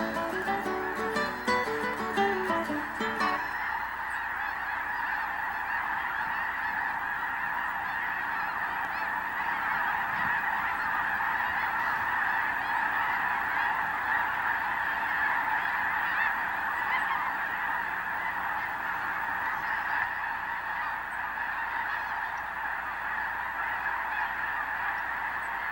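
A large flock of geese honks continuously at a farm roost site in Texas, a dense, steady chorus of overlapping calls from many birds, with a few nearer, clearer honks at the start.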